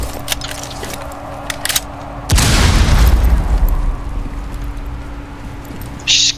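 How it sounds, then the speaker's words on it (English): A frag grenade explodes in the video game Rainbow Six Siege, a single loud deep boom with a rumbling tail that fades over a few seconds, preceded by faint clicks and footsteps. "Throwing frag grenade."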